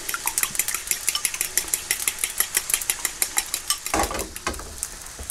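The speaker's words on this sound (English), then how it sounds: "Whisk it up." Quick, steady clinking taps of a whisk beating a cracked egg in a bowl, close and regular, with rice gently frying in the background and a brief louder clatter near the end.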